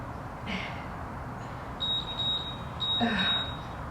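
A few short high-pitched electronic beeps sound over quiet room noise, spaced irregularly, with a faint tone sweep near the end.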